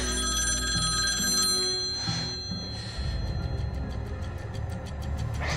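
A telephone rings in a horror movie with a bright, repeating electronic trill over a low rumbling score, the rings continuing through the clip at a loud, close level.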